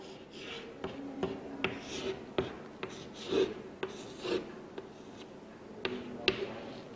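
Pen scratching Urdu script onto paper, a steady run of soft rasping strokes with sharp taps where each word ends, heard close up and alone with no talk.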